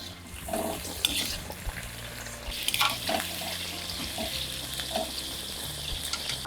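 Okra (bendakaya) frying in oil in a home kitchen, a steady broadband sizzle with occasional louder crackles and utensil clinks throughout, no talking.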